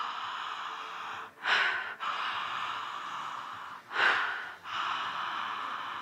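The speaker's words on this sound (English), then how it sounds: "Ride the wave of the breath." Two deep, slow breaths during a guided breathing exercise, each a rushing inhale-exhale swell that stands out against a steady background hum, spaced a few seconds apart.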